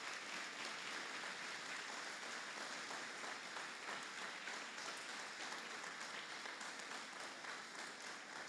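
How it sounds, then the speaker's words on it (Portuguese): A church congregation applauds during a Lord's Supper service, a continuous wash of clapping from many hands, fairly distant and even in level throughout. "Dá uma salva de palmas para você ser alcançado por Ele"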